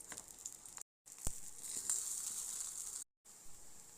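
Crispy thavalai adai, a traditional South Indian lentil-rice cake, frying in a pan after being flipped. It gives a soft, steady sizzle with light crackle, broken by two brief silent gaps.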